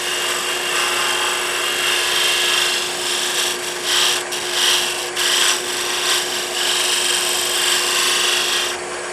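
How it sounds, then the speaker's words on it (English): An R2 cutter tool scrapes finely against wood spinning on a lathe, making a loud, continuous, rasping hiss over a steady motor drone, with a few brief dips and swells as the cut changes, and no voices. "That R2 cutter, I could also cut on the side. Do a little fine scraping action."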